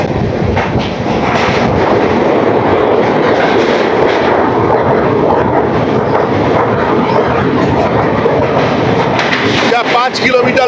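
A train rumbles steadily across the Bogibeel double-decker rail-road bridge, a loud continuous roar with wind buffeting the microphone, lasting the whole stretch.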